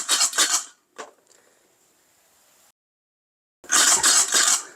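Coffee beans roasting in a pot, rattling and rasping in loud bursts as the pot is shaken, with a quiet pause between rounds.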